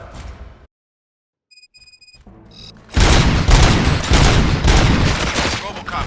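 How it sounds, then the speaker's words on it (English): A heavy burst of gunfire erupts in RoboCop: Rogue City, loud and continuous after a short quiet stretch broken by a few electronic tones, sustained rapid shots filling the scene. "Gunshots? What's going on?"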